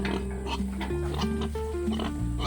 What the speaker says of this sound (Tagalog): Ang baboy ayaw magpakuha.